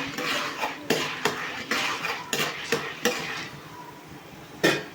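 Salted grains stirred in a pan, giving a series of scraping, rattling strokes with metallic clinks at roughly regular intervals, close and moderately loud, with no talking.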